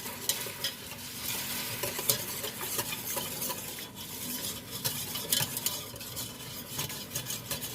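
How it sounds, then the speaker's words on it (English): A whisk stirs milk into a light brown roux for homemade mac and cheese, making a soft, continuous scraping swirl with faint sizzling. It is close but fairly quiet, and nobody talks. "slowly add some milk to it. Keep whisking."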